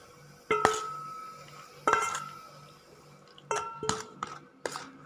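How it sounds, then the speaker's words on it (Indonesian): Spoon scraping and clinking against a bowl while fish roe is stirred with spices for Palembang-style brengkes, a few sharp, close utensil knocks and scrapes separated by quiet pauses. "Kita aduk dengan bumbu sampai tercampur rata ya, seperti ini."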